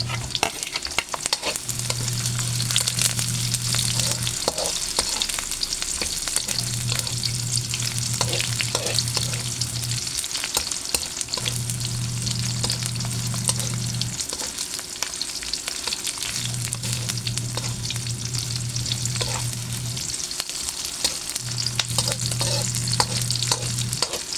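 Sliced onions sizzle and fry in a hot pan for Filipino ginataang sitaw with pork belly, with steady crackling broken by repeated bursts of scraping stirring at a regular pace, close and loud, with no talk.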